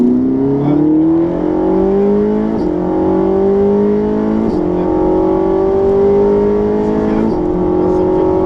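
A Ferrari 458 Special accelerating on a track, its engine note climbing steadily through gear changes, with a brief dip at each shift, loud and close throughout.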